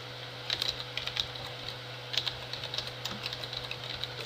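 Light, quick keystrokes on a computer keyboard tap out a steady run of clicks against a faint background hum, with no voices present.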